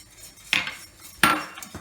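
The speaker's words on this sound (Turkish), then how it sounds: "Yavaş yavaş karıştırarak." A spoon knocks twice against a pot while béchamel sauce is slowly stirred with black pepper added, two distinct metallic clinks close by with a fainter third at the end, otherwise quiet.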